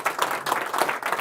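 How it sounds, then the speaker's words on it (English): Audience applause for a performer on a public-access comedy show, close and dense, with a few bursts of clapping across a short stretch and no talk. "Big round of applause."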